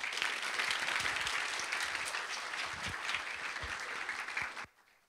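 Audience applause at a reception for newly qualified insurance loss adjusters, a dense steady clapping that holds for over four seconds before stopping abruptly into near silence.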